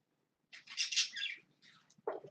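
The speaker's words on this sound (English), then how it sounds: "The birds were louder than you." Small birds chirp in short bright bursts, a close twittering call followed by a brief lower chirp, fairly faint with no talking.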